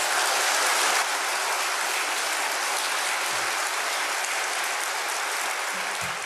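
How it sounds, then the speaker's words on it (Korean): A large crowd at a religious assembly in Seoul gives applause of thanks, a broad, even hiss of many hands clapping at a distance, sustained without break and with no talk over it. "우리 모두 감사의 박수를 올리기 합니다."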